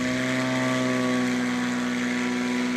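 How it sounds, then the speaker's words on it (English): A red, white and blue Cessna 180 from Afton, Wyoming roars at full throttle on its takeoff run at a STOL competition, a loud, steady propeller drone with strong engine harmonics throughout. "Cessna 180 from Afton, Wyoming. Beautiful red, white, and blue aircraft. He's full throttle."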